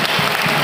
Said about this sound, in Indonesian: tunjukkan tepuk tangan antum untuk kita semuanya hari ini